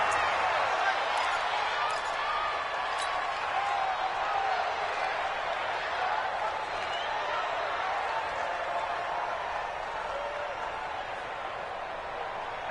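Steady stadium crowd roar inside a domed football stadium in a football video game, a constant dense murmur with a play-by-play voice talking over it.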